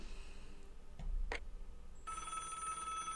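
A telephone rings in the point-and-click game Broken Sword: The Shadow of the Templars, a couple of quiet clicks and a short chime followed by a sustained electronic bell tone, faint and alone.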